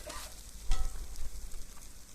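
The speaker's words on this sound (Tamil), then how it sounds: "மேலே மிளகுத்தூள் நல்லா நிறையா போட்டு அப்படி நல்லா பரட்டி விட்டு ஃபுல்லாக அதை எடுத்துடலாம்" Brinjal egg poriyal stir-fried in a pan with pepper powder, a steady close sizzle broken by a louder scrape and toss of the spatula.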